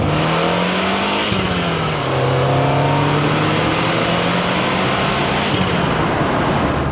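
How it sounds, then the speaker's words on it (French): A Lancia Delta turbo engine pulls under gentle acceleration, a loud steady drone whose pitch rises and dips through a gear change, with a brief hiss that could be the turbo dump valve, heard from inside the car without talk. "il suffit juste d'accélérer un tout petit peu et d'être dans les bons rapports. Et on entend même la dump valve du turbo."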